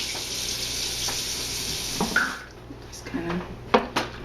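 Cold water runs from a tap and pours into a bowl in a home kitchen, a steady close rush that stops partway, followed by a few light clinks and splashes.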